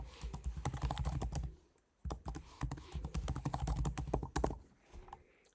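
Quick bursts of close, quiet keystrokes on a computer keyboard as a root password is typed, two dense runs of clicks separated by a brief pause, ending in a few final taps.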